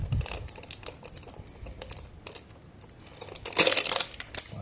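A new oil filter being unwrapped during an engine oil change gives off a run of crisp crinkling and tearing bursts of packaging, close to the microphone, with a louder flurry near the end.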